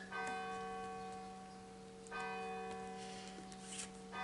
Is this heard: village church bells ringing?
yes